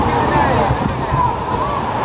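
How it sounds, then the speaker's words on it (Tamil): Heavy rushing water at Aagayagangai waterfall in the Kolli Hills, a steady broadband roar filling the whole clip with a voice talking over it. "தண்ணி ஃப்ளோ ரொம்ப அதிகமா இருக்கு"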